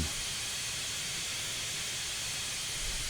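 Continuous steam hiss from an AT&N Consolidation steam locomotive in Train Simulator, a steady broadband rush that stays loud and unbroken throughout, with no voices.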